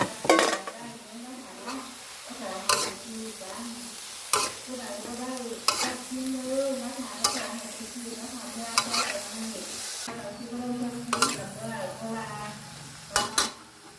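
Pork stir-fried with cabbage and bell peppers in a pan sizzles steadily while a utensil scrapes and clanks against the metal in repeated sharp strokes, close and loud, with speech in places.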